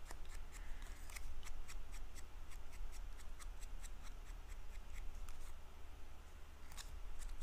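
Scissors cut a paper card with a quick run of crisp snips in an uneven rhythm, faint and close against a low background hum, with no talking.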